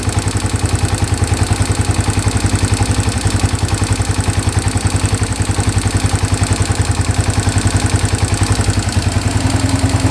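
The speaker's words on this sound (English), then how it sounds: "Idling perfectly." A street-legal dirt bike with a carburetor idles right up close, its engine beating in a loud, even, rapid rhythm that stays steady throughout with no voices.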